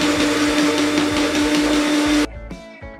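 A restored malt mill grinds grain, driven by a power drill, with a steady loud whirring drone that cuts off abruptly near the end and leaves faint clatter.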